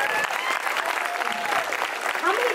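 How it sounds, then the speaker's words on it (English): Audience applause at a horror film Q&A with cast and crew, dense clapping with some crowd noise and faint voices mixed in, sustained throughout. "Can we give him an applause for that?"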